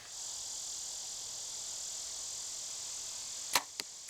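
Steady insect-like hiss fills the background, then a sharp impact snaps once as a fixed-blade broadhead arrow hits a target, followed by a fainter second knock a moment later.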